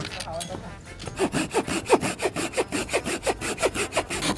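A SOL Stoke Pivot combination tool, hatchet on one side and saw blade on the other, works through firewood at a campsite, giving regular rasping push-pull strokes that start slowly and settle into a quick, loud rhythm close by.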